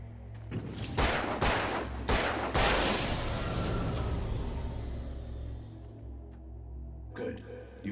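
Gunfire in the horror action game Alan Wake, a quick series of loud close shots with booming reports, followed by a fading rumble and quieter sounds near the end.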